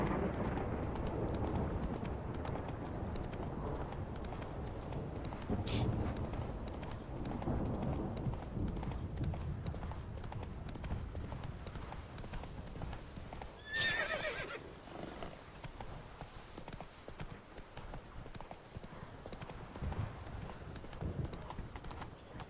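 A horse in The Witcher 3 gallops with steady, fast clip-clop hoofbeats, giving a sharp whinny partway through, over a continuous low outdoor background.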